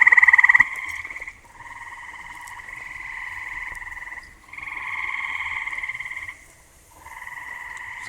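Frogs croaking at night near a pond on a summer evening, a loud close continuous trilling chorus that pauses briefly twice and resumes, with no other sound over it.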